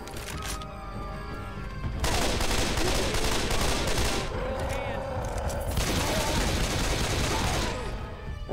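Heavy sustained gunfire in Left 4 Dead 2, a dense rattling fusillade that starts abruptly and runs almost unbroken, loud and close, with frantic voices shouting through it.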